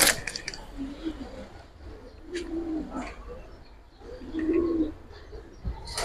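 Afsan Bagha pigeons give soft, low repeated coos in several bursts, close by, with faint chirps and occasional handling noise between them.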